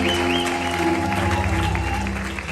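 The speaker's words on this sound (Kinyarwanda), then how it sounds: "Kongera Imana amashyi n'abana bacu" An audience at a church gospel music event claps in a dense, continuous burst of applause, mixed with sustained musical tones and some voices, fading slightly toward the end.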